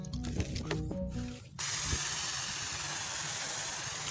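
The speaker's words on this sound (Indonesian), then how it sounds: "Kita semprot pada bagian yang bekas menjadi sarang rayap tersebut ya, hingga bersih." A handheld sprayer blasts plain water onto a date palm trunk where termites had nested, a steady close broadband hiss starting abruptly after a brief mix of mechanical hum and clatter.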